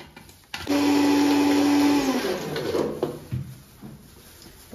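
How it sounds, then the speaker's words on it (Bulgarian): A kitchen blender whirs loudly as it mixes cake ingredients with cinnamon and salt, a strong steady motor whine for over a second that then winds down amid clattering and handling noises. "Така, това е всичко, което правим, след което затваряме блендера"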